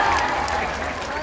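Audience applause at a Muhammadiyah anniversary gathering in Bandung, a brief dense wash of clapping from a crowd, steady and loud, with a voice speaking over it.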